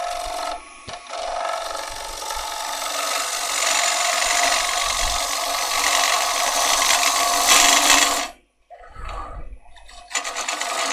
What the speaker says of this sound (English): So we're going to come in here and gradually pick up this cut.